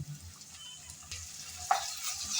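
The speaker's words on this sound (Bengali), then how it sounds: "আদা রসুন বাটা পেঁয়াজের সাথে ভেজে নেব, যেন আদা রসুনের কাঁচা গন্ধ চলে যায়" Ginger garlic paste frying with onions in a pan, a soft steady sizzle with a few stirring scrapes and a brief sharper clink, quiet and close with no talk.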